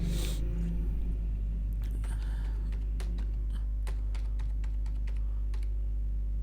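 Keys tapped on a computer keyboard while entering a record in Microsoft Access, a steady scatter of sharp clicks over a constant low hum, with no voices.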